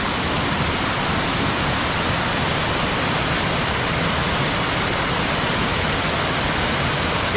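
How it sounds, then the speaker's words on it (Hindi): Ravan waterfall in Sri Lanka pours as a dense, loud, unbroken roar of falling water, steady and close throughout with no talking. "खूबसूरत सा झरना है।"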